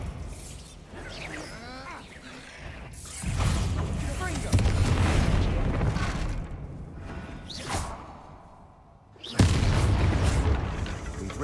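A Bombarda spell blasting in Hogwarts Legacy, heavy booming explosions with whooshing swells and crumbling debris that rise and fall across the stretch, loud and close.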